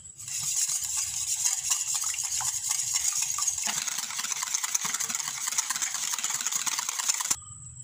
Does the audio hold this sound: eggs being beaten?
yes